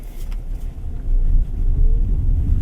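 A BYD Sealion 5 DM-i accelerating in sport mode gives a steady low rumble of road and drivetrain noise inside the cabin that swells louder partway through and holds there, with no talk.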